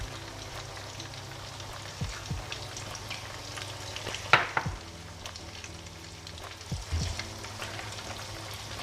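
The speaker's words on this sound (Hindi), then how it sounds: "अब जो है हम दूध में इसे थोड़ा थोड़ा करके डालते रहेंगे और मिक्स करते रहेंगे" Custard mixture being stirred into milk in a pan on the stove, giving a steady bubbling, sizzling simmer with occasional spoon scrapes and clinks, close and fairly loud, with no talking.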